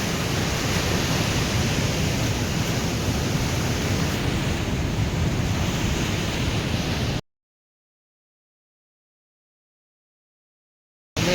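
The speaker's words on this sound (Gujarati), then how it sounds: "બહુ ભારે પ્રમાણમાં અહીંયા દરિયાના મોજા ઉછળીને સામે આવી" Heavy sea waves surge and crash on the shore in a dense, loud, continuous roar that fills the air, then cuts out into silence before briefly returning.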